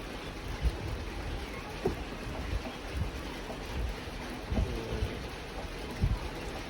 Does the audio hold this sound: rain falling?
yes